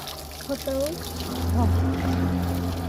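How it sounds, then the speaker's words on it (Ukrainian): Water splashes from an outdoor beach foot-washing tap at a seaside resort complex, a steady broadband pour running under nearby conversation, with a few short tonal voices breaking in partway through. "Ось такі крани, бачите, для того, щоб помити ножки після пляжу."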